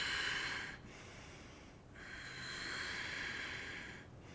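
Slow, airy exhalations during a yoga breathing exercise, two long breaths separated by brief pauses, close and fairly quiet with no talking.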